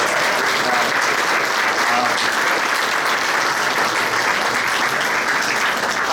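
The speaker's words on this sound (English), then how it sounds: "Let's give them a round of applause for" Dense, loud, sustained applause from a crowd at an inaugural reception, continuous clapping at even strength throughout with no break.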